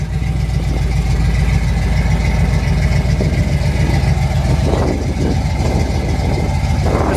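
A 1969 Chevrolet Chevelle engine idles steadily up close, a loud continuous low rumble with even rhythm and a few brief swells in tone, with no talking.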